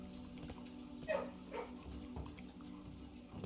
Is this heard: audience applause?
no